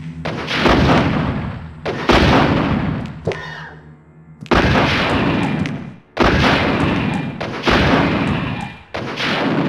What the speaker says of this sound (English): Did I just shoot like all three of them and just kill them all right there?